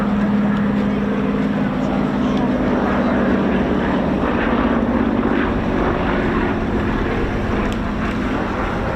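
Fairey Swordfish propeller biplane flying over an air show at RAF Cosford, a loud steady engine drone with wind buffeting throughout, while a commentator talks over it.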